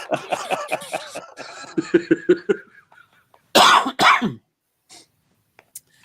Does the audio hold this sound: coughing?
yes